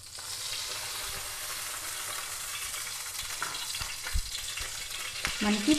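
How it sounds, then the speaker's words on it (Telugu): Oil sizzles with tempering spices for a cumin tomato rasam, a loud, steady frying hiss that runs throughout, with a few sharper crackles and pops near the end. "మనం ఇప్పుడు పక్కన పెట్టేసుకొని పోపు పెట్టేసుకుందాం."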